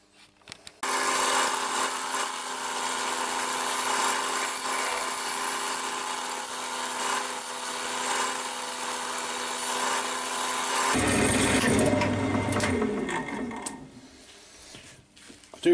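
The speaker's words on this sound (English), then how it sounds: "Just carrying on with this scraper for a bit." A scraper on a wood lathe smooths and thins a turned bud vase, a steady whirring, rasping hum of the spinning blank with tonal ringing that shifts pitch partway through as the cut changes, continuous and fairly close.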